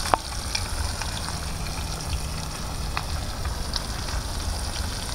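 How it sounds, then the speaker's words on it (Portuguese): Fish frying in a pan with oil, a steady close hiss of crackling sizzle that holds even throughout, with an occasional sharper pop or tap. "Peixe fritando"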